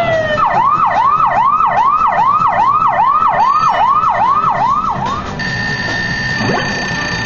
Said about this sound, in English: the police siren noise is extremely